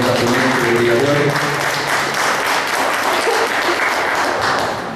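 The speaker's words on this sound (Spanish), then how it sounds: "Un aplauso, por favor, a la compañera ponente del día de hoy." Audience applause for a speaker at a Spanish-language talk on journalism and memory: steady, dense clapping from a crowd that fills all five seconds at an even level, while faint voices murmur under it early on.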